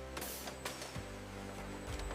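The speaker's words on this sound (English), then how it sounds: "Vacuum sealing is next." A factory vacuum sealing machine closing pouches of bamboo shoots, a steady mechanical hum and whir with a pitch shift partway through and a few soft clicks, close with no talking.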